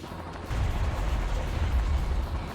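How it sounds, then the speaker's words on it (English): Missile punch fire in the video game Metal Wolf Chaos: a sudden deep boom at about half a second gives way to a loud, sustained rumbling roar of missile blasts that carries on to the end. "Suck on my missile punch!"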